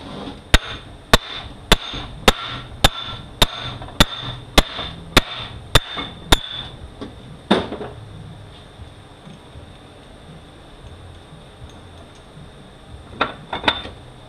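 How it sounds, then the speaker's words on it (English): A bolt on the back of a 604 (40TES) automatic transmission is struck during disassembly: about ten sharp, evenly spaced metallic hammer blows ring out up close, followed by a few scattered clanks and taps. "Now I just smack on this bolt on the back of there."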